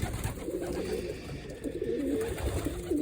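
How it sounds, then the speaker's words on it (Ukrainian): Breeding pigeons cooing close by in a loft, soft repeated throaty coos rising and falling over a low background murmur. "ось вони голуби не позамерзали"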